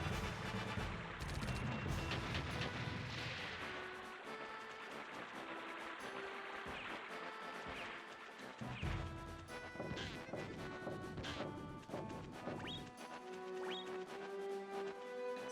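Gunshot skill fired at logs in the video game Brave Fencer Musashi, a series of sharp crashing impacts and whacks over game music and effects, loud and irregular across the stretch.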